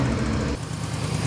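A Pontiac Phoenix engine, recently freed of a large vacuum leak, revs and runs steadily, a close, continuous mechanical drone with no talking.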